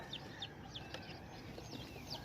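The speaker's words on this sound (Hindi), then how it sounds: "प्योर इंडोनेशियन ब्लैक टंग के ये चिक्स हैं" Pure Indonesian Black Tongue chicks peeping in a brief series of faint high chirps, several spaced calls over a steady background hum.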